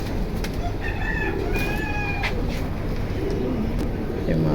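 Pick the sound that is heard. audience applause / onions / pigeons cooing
pigeons cooing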